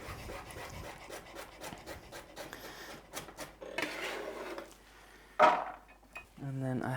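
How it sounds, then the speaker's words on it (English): A knife slices through a carrot on a board, quick, light, repeated cuts in an irregular rhythm, followed by a few louder kitchen knocks and rustles, all fairly quiet and close. "So I'm gonna cut this carrot in half. And just slice that up."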